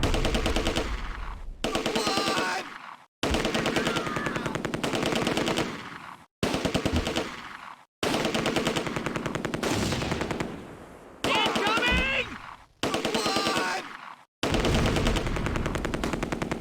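Troops shooting in the Close Combat: A Bridge Too Far war game, repeated loud bursts of machine-gun fire in quick succession, broken by brief silent gaps.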